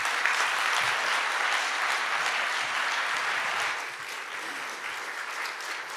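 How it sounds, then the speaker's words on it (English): A conference audience at a cardiology award ceremony gives a full round of applause, thick and sustained clapping with no voices, easing slightly in volume partway through. "We need another big round of applause to the Dr. Alain Cribier"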